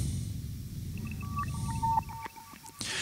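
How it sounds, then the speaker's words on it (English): Ambient feedback loop recorded on a modular synth, a low rumbling drone bed with thin sustained tones and soft pinging blips drifting over it, steady and moderately quiet. "basically a feedback loop I recorded on a modular setup"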